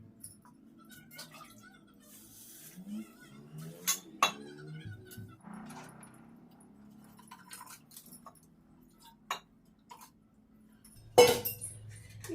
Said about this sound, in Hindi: तो अब इसमें भाजी और दाल सब कुछ डाल देते हैं।